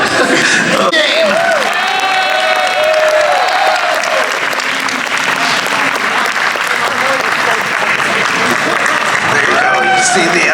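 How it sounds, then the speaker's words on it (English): Loud, continuous crowd cheering and applause at a Super Mario crew's Tetris match at the SoCal Gaming Expo 2025, with whoops and shouts rising and falling throughout and voices calling out over the steady clapping. "You see the Super Mario crew over there cheering him on"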